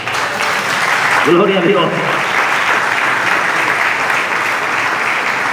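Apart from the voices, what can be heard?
audience applauding in a church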